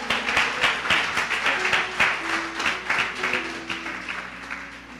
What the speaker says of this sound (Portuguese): Uma grande salva de palmas ao Senhor.